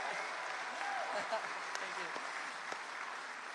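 A large crowd applauds and cheers steadily at a gubernatorial campaign launch, a continuous wash of clapping with a brief spoken thanks on top.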